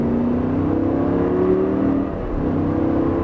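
A car's engine climbs in revs as it accelerates on a driving circuit, a steady, fairly loud drone that rises in pitch, dips briefly, then carries on close by without any talking.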